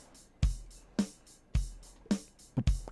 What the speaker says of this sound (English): If I put the kick here, so on beat 3, our drum loop sounds like this.